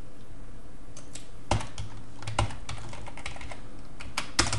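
Computer keyboard typing out programming code, a close stream of light key clicks with a few sharper, louder strokes scattered through, no speech.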